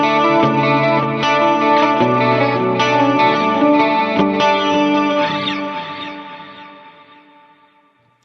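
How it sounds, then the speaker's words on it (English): Electric guitar run through a Line 6 HX Stomp preset with chorus and a dual pitch effect switched on, playing a short shimmering phrase close up that rings out and fades away. "So with the chorus, sounds like this."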